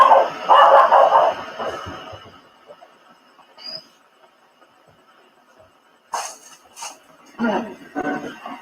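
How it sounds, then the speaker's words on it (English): A dog and a cat squabble at home, with a loud, rough burst of barking and yelps at the start, then near quiet, then a few sharp clattering bursts near the end. "My cat and dog had a bit of a domestic there."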